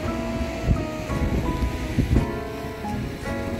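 Sea waves wash against the rocks at Muttom beach, a steady broadband roar with surges of surf at intervals, close and fairly loud, with no voices.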